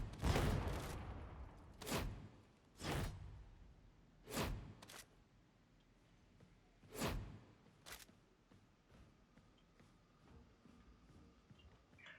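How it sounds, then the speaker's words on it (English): Shredder Frag grenades going off in the video game Darktide: several separate sharp explosive bursts spaced a second or two apart, the first and loudest followed by lighter blasts that fade into quiet. "In-game test, Shredder Frag grenades versus a clump of every non-boss enemy in the game."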